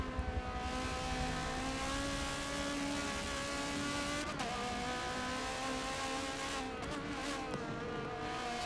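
Onboard sound of a GT race car at Road Atlanta, its engine droning loud and steady with shifting harmonics as revs rise and dip through gear changes, running continuously with no talk.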